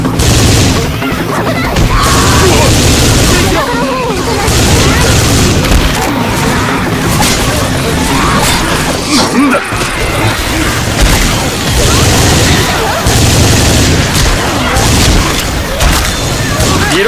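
Left 4 Dead 2 zombie-shooter gunfire: loud, nearly continuous bursts of shots and booming impacts pound throughout, with character voices calling out in Japanese over the din.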